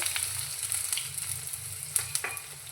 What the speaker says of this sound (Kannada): ಇವಾಗ ಇದನ್ನ ಹುರ್ಕೊಳ್ಳೋಣ ಎಣ್ಣೆಗೆ ಹಾಕ್ಕೊಂಡು.